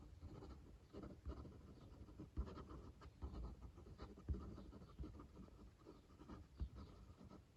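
A fountain pen with a fine European nib writes quickly on paper, producing faint, close scratchy strokes in short uneven bursts with no talking.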